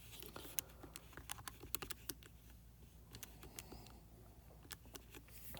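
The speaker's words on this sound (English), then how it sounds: "I'm just going to directly type this into my calculator to see what we get." Numbers tapped into a calculator, a quick, faint run of light plastic key clicks in an irregular rhythm, close by in a quiet room.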